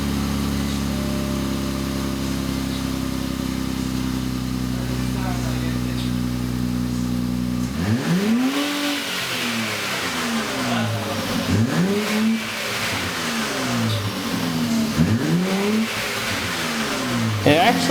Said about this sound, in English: With the exhaust off, I figured I might as well see how it would sound with a muffler delete.